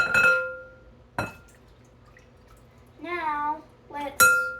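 Water poured into cake pop batter in a bowl, a brief rising liquid gurgle after a couple of sharp glassy clinks, close and quiet in a kitchen.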